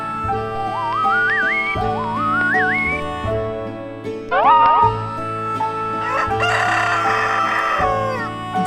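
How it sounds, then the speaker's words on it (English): A hen or rooster-style crowing call, bright and close, repeated among whistled tones and cheerful toy-train style musical effects in a children's farm-animal song. "This is a hen."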